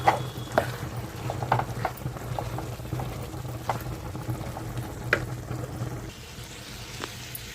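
Spiny gourd and cashew curry with chilli and turmeric cooks in oil, giving a soft bubbling sizzle punctuated by light taps and stirring clinks, close and fairly quiet.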